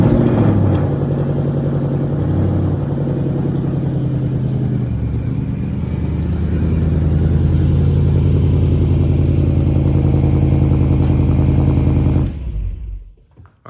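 A car engine idles and rumbles close by as the car is driven out of a garage, a steady low throb with small rises in revs, cutting off abruptly near the end.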